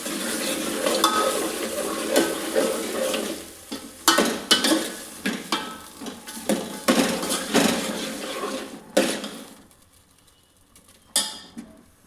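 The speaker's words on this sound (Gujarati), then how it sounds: "અલગથી આપણે ડુંગળીનો વઘાર કરવી" Onion tempering with mustard seeds and cumin sizzles in a pan, crackling frying broken by repeated stirring scrapes and clinks of utensil on metal, fading toward the end with one last stir.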